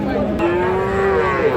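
Friesian and crossbred bull calves at Raniganj cattle market give a single loud, drawn-out moo close by, sustained for over a second with no talking.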